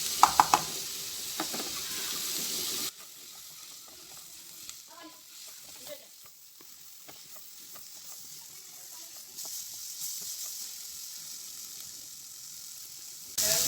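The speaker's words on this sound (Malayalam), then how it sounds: "ചെറുതായി കട്ട് ചെയ്ത് ഉപ്പും മുളകും തേച്ച് വെച്ച ചെമ്മീനാണിത്. ഇത് ആഡ് ചെയ്ത് കൊടുക്കാം." Prawns cut small and rubbed with salt and chilli fry in a hot pan, a loud burst of sizzle as they hit the oil at the start, then settling into a steady, quieter crackle with occasional stirring.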